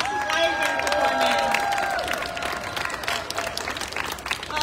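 An audience at a 50th-anniversary celebration applauds a live band: dense, loud clapping from a large crowd, strongest at first and gradually thinning out over several seconds.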